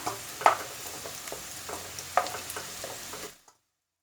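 Potato chunks for dum aloo fry in hot oil with a steady, bubbling sizzle while a ladle scoops them out, its metallic scrapes and clinks cutting through. The sound stops abruptly near the end.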